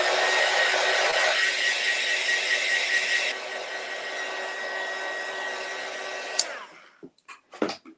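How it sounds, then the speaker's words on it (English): Heat gun drying a decoupage Christmas ornament: a loud, steady blowing whine close by that shifts pitch partway through, runs for about six and a half seconds, then cuts off and is followed by a few light clicks and handling knocks. "I'm going to hit it with the heat gun just to be safe here real quick."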